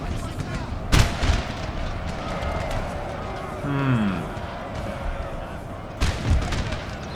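Cannon fire during a Napoleon: Total War battle, heard as sharp booming blasts near the start and again near the end, with a rumbling battlefield bed between them and a voice talking over it.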